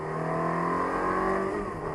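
A Ferrari F430 engine revs and accelerates on track, a steady droning tone that holds loud and close for two seconds before easing slightly.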